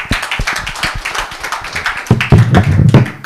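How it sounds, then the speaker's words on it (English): Applause from the audience in a conference breakout room at a medical scientific meeting, a dense patter of hand claps that grows louder and fuller toward the end, fairly close and with no talking. "I hope without asking they need a much louder applause"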